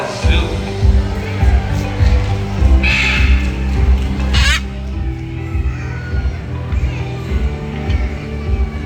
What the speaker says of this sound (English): Here in Cebu Ocean Park, we have our green-winged macaw bandit, our Eclectus parrot red, and our blue-and-gold macaw zoo.